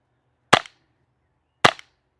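A LEGO-built airsoft gun fires twice at a target, two sharp, close snapping shots about a second apart with quiet in between.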